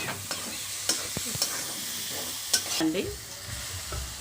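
A spatula scrapes and stirs egg fried rice with a little tomato sauce in a hot frying pan, sizzling steadily with irregular clinks and scrapes up close, and a voice briefly speaks partway through.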